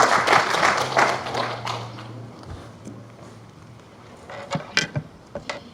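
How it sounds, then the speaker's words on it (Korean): A church congregation claps to welcome a visiting missionary speaker. Dense applause opens the clip, then thins to scattered taps and faint noise. "우리 박수로 환영해 주시기 바랍니다"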